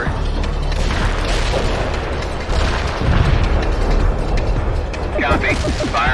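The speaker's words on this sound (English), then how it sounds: "Heavy artillery barrage inbound." A heavy artillery barrage thunders in the World in Conflict video game, with dense rumbling booms and mechanical rattling that intensify midway, followed by a few sharper impacts near the end.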